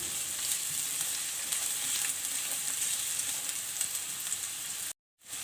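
Onions frying lightly in a pan give off a steady, close sizzle that holds constant, then cuts out briefly near the end before resuming.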